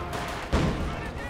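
A single booming artillery shot from Company of Heroes 2, a World War II real-time strategy game, breaks through the ongoing in-game battle noise about halfway through.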